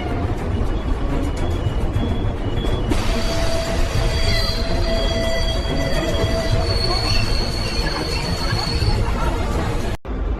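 A New York subway train rolling through the tunnel, a loud continuous roar with high metallic wheel squeals and clattering, with faint crowd babble in the background and an abrupt cut near the end.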